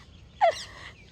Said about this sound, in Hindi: it's all cool, all silent, पंछियों का आवाज़